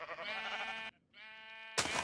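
Sheep on a wool farm in a video game bleat twice, a long wavering bleat and then a second after a short gap, close and clear, with a burst of noise at the end.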